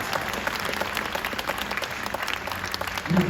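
Audience at a Corning glass factory demonstration applauding a glassblower, a steady wash of clapping from a small crowd, moderately distant, with a slight swell at the end.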